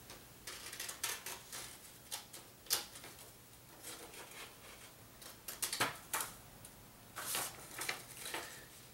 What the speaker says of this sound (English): we're going to cut off those little sections that say remove.